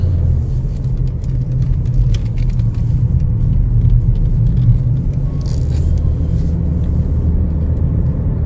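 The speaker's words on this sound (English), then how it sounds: "Take it for a little test drive here." A 2026 Chevrolet Equinox LT out on a test drive, its steady low engine and road rumble filling the cabin evenly throughout, with no talking.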